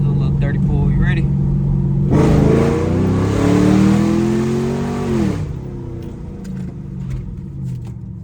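A Chevrolet Camaro accelerates hard, its engine rising in pitch for about three seconds, then backing off to a lower steady rumble. The car sounds close and loud, heard from inside with road noise throughout.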